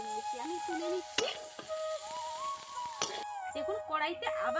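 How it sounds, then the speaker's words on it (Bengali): Cauliflower florets frying in a pan with salt and turmeric give a steady sizzle, broken by a couple of sharp utensil clinks as they are stirred, while a person talks over it. "ফুলকপিগুলো ভালো করে লাল লাল করে আমি ভেজে নিয়েছি,"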